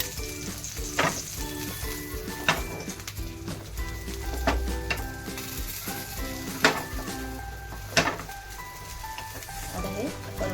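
Egg-dipped bread frying in a pan with oil trickled in around the edges, a steady sizzle with scattered stirring and pan clinks beneath, while a person talks over it.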